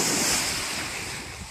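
Sea waves wash onto a beach at Çıralı, Turkey, with a broad hiss of surf, mixed with gusty wind buffeting the microphone; no voices.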